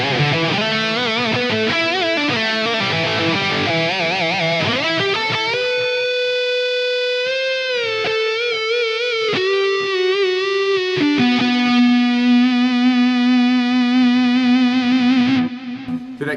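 An electric guitar goes through an Axe-Fx III preset. It plays distorted lead lines with a thick low end, then holds long, singing sustained notes bathed in chorus and echo, and no one speaks.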